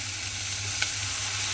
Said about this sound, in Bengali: জল দিয়ে মশলাটাকে প্রথমে খুব ভালোভাবে একটু কষিয়ে নেব।